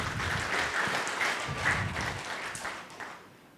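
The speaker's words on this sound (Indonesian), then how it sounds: "Yang setuju berikan tepuk tangan meriah buat Tuhan Anda." A church congregation breaks into sustained, hearty applause during an online worship service, a dense wash of clapping that fills the whole moment and fades slightly toward the end.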